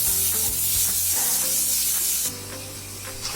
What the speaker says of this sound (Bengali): এবার আমরা এটাকে খুব ভালো মতো মিক্স করে দিচ্ছি।